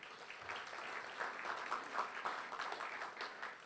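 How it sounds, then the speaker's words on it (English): An audience at a State of the City event in Indio breaks into applause, a sustained wash of many hands clapping heard from across a room, fairly quiet and steady for several seconds. "Let's give her a round of applause."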